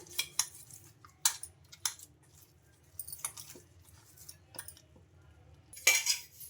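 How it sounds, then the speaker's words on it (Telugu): Dough being mixed by hand with oil in a home kitchen, heard as a few scattered scraping and clinking knocks against a bowl, quiet and close, with no talk. "ఇలా ఆయిల్ వేసుకొని ఇంకా పిండి మొత్తాన్ని ఒకసారి బాగా ఇలా కలిపేసుకుందాం"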